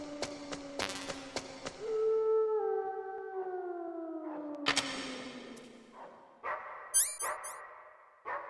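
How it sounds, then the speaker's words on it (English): Wolf dogs, half wolf and half husky, in the 1998 game Metal Gear Solid, giving rapid barks followed by long, drawn howls, then more yelps and snarls near the end, loud and close with no speech. "Could there be wolves in there? Wolf dogs. Half wolf, half husky."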